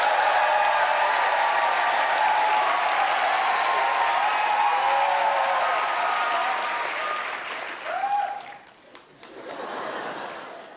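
Studio audience applause at a Korean TV comedy show, clapping as a vote for a comedy team: a loud, dense burst with some laughter mixed in, fading out near the end.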